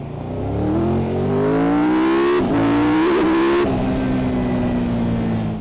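A Triumph Tiger 1200 Rally Explorer motorcycle engine revs up and holds a throaty, rising drone, dips briefly and surges again, then settles back to a steady loud idle-like hum, close and alone.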